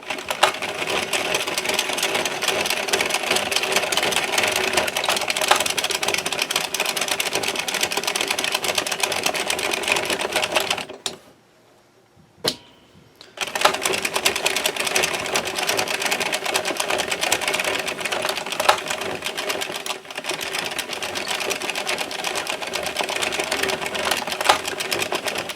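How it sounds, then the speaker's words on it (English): A knitting machine carrying waste yarn clatters in a fast, steady rhythm as the carriage runs rows, stopping briefly for a moment of near silence before the mechanical chatter resumes just as loudly. "I have my waste yarn sections kind of pre-cut so that they make a couple rows on my knitting"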